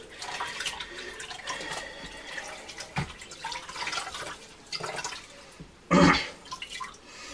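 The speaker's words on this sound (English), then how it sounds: "We got a little bucket of water. We're going to just rinse our rag out." A rag rinsed in a small bucket of water while cleaning a dryer: soft, intermittent sloshing and dripping, with a louder splash near the end, close and fairly quiet.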